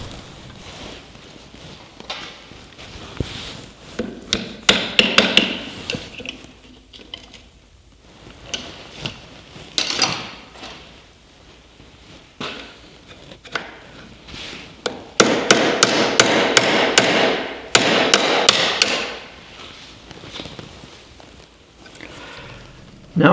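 Metal hammer strikes driving a pin through shifters on the shift rails of an IH Scout transfer case in a workshop, bursts of rapid sharp taps separated by quieter handling clatter.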